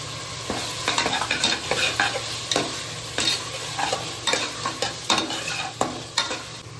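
Tomatoes sautéing in a pan for chicken gravy, with a steady sizzle broken by repeated sharp scrapes and clacks of a spoon stirring against the pan, close and fairly loud.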